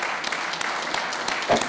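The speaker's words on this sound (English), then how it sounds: "let's give them both a round of applause" Audience applause at a history lecture honoring guests, a brief burst of steady clapping from a crowd, moderately loud and continuous with a small swell near the end.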